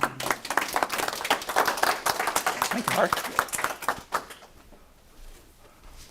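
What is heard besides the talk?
applause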